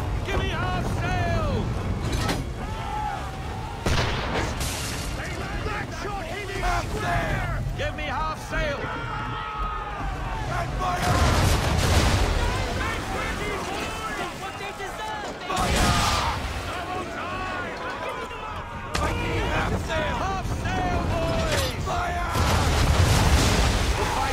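Ship swivel guns and cannons firing in a naval battle in the video game Assassin's Creed III, heavy booms among creaking sail and sea noise, under constant shouted crew voices and orders.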